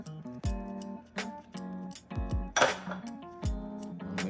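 Metal utensil clanking against a pot or pan while mixing jackfruit with smoked paprika and spelt for a vegan oxtail dish, a series of sharp ringing knocks and scrapes spaced irregularly, close and fairly loud.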